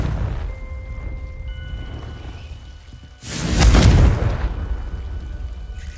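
A Confringo spell explosion in Hogwarts Legacy, a sudden loud booming blast with a rumbling, crackling tail that follows a quieter stretch of ambient game sound.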